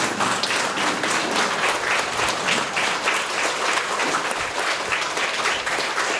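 Audience at a Tamil religious gathering stands and applauds for a swami, steady dense clapping from a large crowd, loud and sustained throughout with no talk over it.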